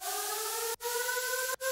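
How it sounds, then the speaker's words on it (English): A low siren drones beneath an electronic music drop, its steady pitched wail running through a bright, dense mix that cuts out abruptly twice in quick succession. "we have a little bit more atmosphere kind of going on with the siren that's kind of playing very low"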